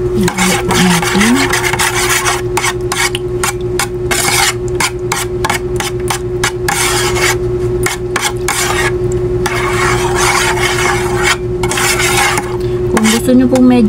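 Chicken marinade for Filipino inihaw being stirred in a bowl, with steady clinking and scraping of a utensil against the dish, repeated rubbing strokes close up over a constant low hum.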